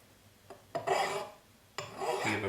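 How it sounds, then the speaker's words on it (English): A metal file rasps across a sterling silver rivet set in a cuff bracelet: two or three short, close strokes with quiet pauses between, dry and scratchy, with no voices. "file it."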